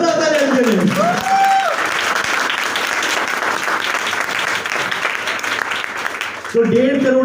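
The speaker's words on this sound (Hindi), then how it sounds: "जोरदार ताली इनके लिए" A large audience breaks into loud applause at a motivational speech, sustained clapping filling the hall while an amplified voice talks over it at the start and end.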